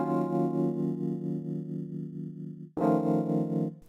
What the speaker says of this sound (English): let me add some reverb on the electric piano